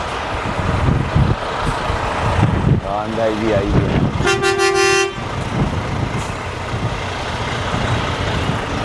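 A semi truck's horn gives one clear, loud toot lasting under a second as the long-haul rig pulls out, over idling engine rumble, while someone talks nearby.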